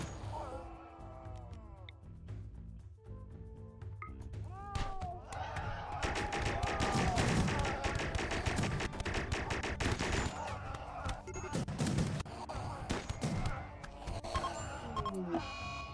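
Rimworld combat brings bursts of rapid machine-gun fire and sharp individual shots, loud and sustained over several seconds, with impacts and thuds mixed in and a voice occasionally talking beneath.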